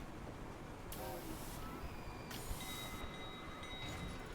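A train rolls through an amusement park in the video game Parkitect, a faint, continuous rumbling with light squealing and clicking tones layered over it.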